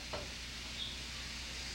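Faint, steady sizzling of chicken frying in a pan, a soft continuous crackle with no talking.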